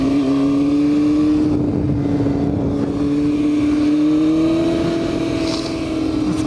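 A motorcycle engine revs continuously up close, stuck and failing to go into gear, with a steady droning tone that rises and falls slightly throughout and a rough grinding texture underneath.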